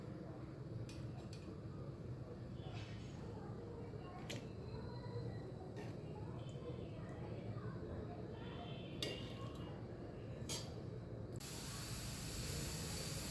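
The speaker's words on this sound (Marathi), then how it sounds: "आता आपण ह्याला वाटून घेऊया." A kitchen mixer grinds cooked tomatoes into ketchup purée with a steady whirring hiss and intermittent clicks, loud and continuous, with a voice talking over it.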